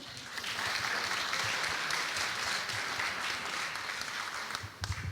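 A festival audience at a French political debate applauds loudly and continuously, a dense wash of clapping that holds steady and then fades away near the end.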